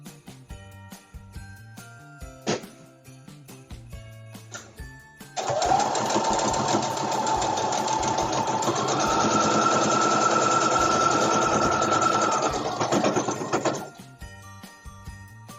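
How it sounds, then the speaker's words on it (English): A sewing machine runs continuously for several seconds at a steady speed, a loud, close mechanical whir with a high tone, after a few scattered clicks and handling noises. "y'all had to listen to the sewing machine"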